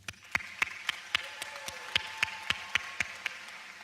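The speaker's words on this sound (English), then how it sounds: "I want us to give an applause to the soccer senior boys" Graduation audience applauding the senior boys' soccer team, with sharp, evenly spaced loud claps standing out over a softer bed of crowd clapping in a large hall.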